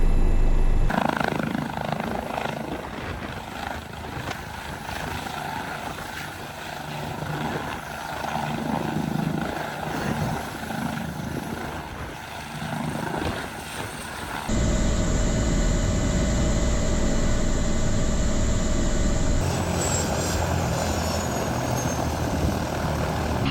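UW Health Med Flight medical transport helicopter landing: loud, continuous rotor and turbine roar up close that shifts into a steadier whine with a higher-pitched tone partway through, with no talking.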